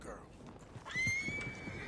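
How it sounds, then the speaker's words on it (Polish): A horse in the video game Red Dead Redemption 2 gives a single rising, drawn-out whinny partway through, heard over game ambience with talk alongside. "Oddalmy naszego konia."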